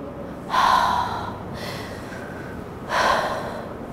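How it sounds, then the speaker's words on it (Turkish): A teacher demonstrates breathing in for a lesson on the respiratory system, making two loud, close, sharp inhalations through the nose about two seconds apart. "Nefes aldım."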